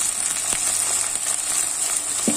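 Chopped tomatoes sauté with softened onions in a pan for brinjal masala, a steady close sizzle with a couple of faint stirring scrapes and no talking.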